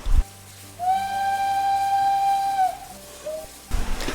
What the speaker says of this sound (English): let's do the whistle